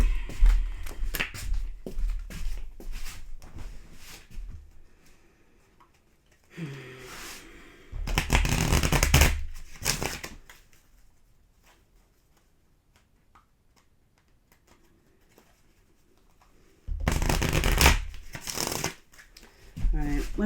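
A deck of Romance Angel oracle cards is shuffled by hand in three loud, close bursts of riffling and flicking, with quiet gaps between them and a voice speaking at the start.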